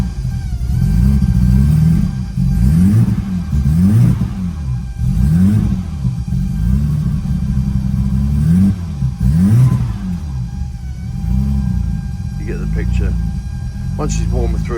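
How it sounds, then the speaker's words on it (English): A BMW 318is E30 engine revs repeatedly while warming up after a recent ECU reset, loud and close, with rhythmic rising and falling blips every second or two over a rough idle. "once she's warmer through, she revs a lot more cleanly"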